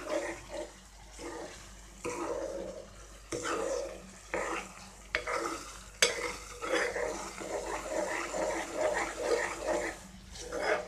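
Milk kova being stirred continuously in a pan, a close, steady scraping and soft bubbling with rhythmic spoon strokes against the pan bottom.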